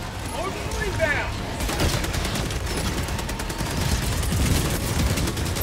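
Steady rapid gunfire from the Helldivers 2 battlefield, with occasional heavier orbital strike blasts under constant crackling shots. Voices are faintly present in the mix.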